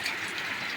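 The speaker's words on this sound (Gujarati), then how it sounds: "બહુ ખતરનાક વરસાદ." Heavy monsoon rain pours steadily over a farm in Gujarat, a dense, continuous hiss with no gaps, loud and close, with no voices over it.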